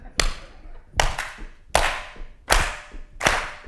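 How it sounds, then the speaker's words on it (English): A crowd at a Black History Month event clapping along to a song: five loud, sharp unison claps on a steady, slow beat, each ringing briefly in the room. "you're going to have to clap your hands"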